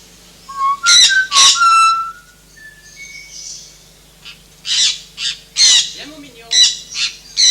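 A parrot in a zoo aviary gives a run of bright, pitched whistles and squawky calls in several close bursts, loud and near, with short pauses between them.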